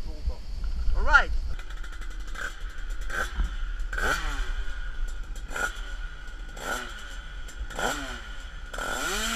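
A 100cc two-stroke drag bike engine on a test run, revving hard in repeated rising bursts that climb and drop back, loud and close, with a brief voice at the start.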